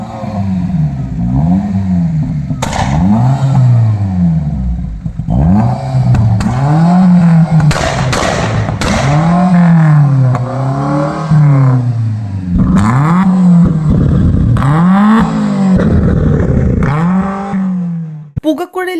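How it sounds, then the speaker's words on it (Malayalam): A modified car with a loud aftermarket exhaust that spits fire revs hard again and again. Each throttle blip swells into a loud, close rising-and-falling roar that continues for the whole stretch. "ആക്സിലേറ്റർ കൊടുക്കുന്ന സമയത്ത് കാതടിപ്പിക്കുന്ന ശബ്ദത്തോടെയാണ് പുകക്കുഴലിലൂടെ തീ തുപ്പുന്നത്."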